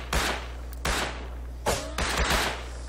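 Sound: gunfire from several directions in the video game Rust

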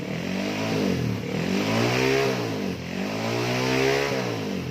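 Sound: Honda Wave 125 motorcycle engine revving after carburetor tuning

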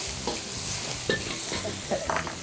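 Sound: chili and garlic frying in hot pan

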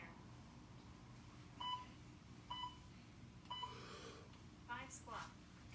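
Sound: workout interval timer beeping

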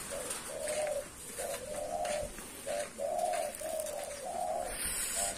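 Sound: male spotted dove (derkuku) cooing

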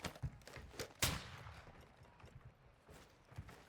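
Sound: gunfire from bots in video game Call of Duty DMZ

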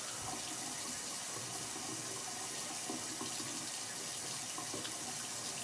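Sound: rinsing hands under a bathroom faucet

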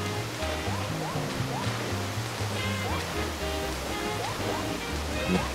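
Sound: waterfall in video game Super Mario 3D World

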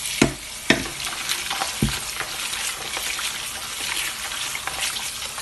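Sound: rinsing sorrel (hibiscus) leaves in water

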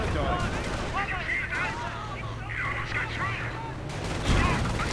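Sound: gunfire and explosions in a WWII strategy video game battle

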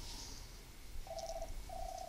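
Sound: phone ringing

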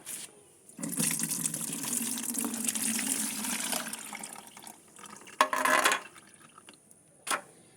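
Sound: beetroot water poured through a strainer

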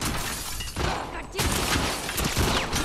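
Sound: gunfire in The Last of Us Part 2 video game

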